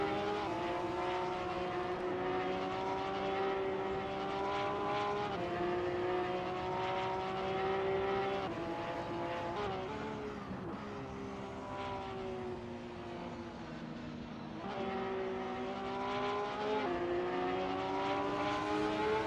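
A Porsche race car screaming around Mugello in a sim racing game, a loud sustained engine whine with clear harmonic tones that climb and drop through gear shifts, constant and close for the whole lap section.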